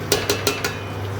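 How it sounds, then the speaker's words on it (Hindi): Mutton biryani ingredients stirred in a metal cooking pot, with four sharp scraping clinks of a spoon against the pot in a steady rhythm, close and fairly clear over a low background hum. "और इसको मैं अच्छी तरीके से मिक्स करने वाली हूँ ताकि प्रॉपर मिक्स हो।"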